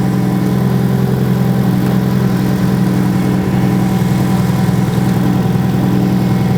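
A car engine idles steadily after being jump-started with a portable booster pack, a loud, even low rumble with slight vibration that continues without change and without talking.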